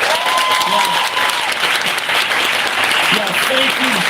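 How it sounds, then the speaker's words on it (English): Town hall audience in Milwaukee's 3rd District claps in a sustained, dense round of applause, loud and close, with a few voices calling out over the clapping. "Give them another round of applause."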